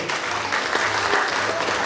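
An audience at a charity quiz game in Yuzhne claps briskly and evenly for just under two seconds, a short burst of full-room applause.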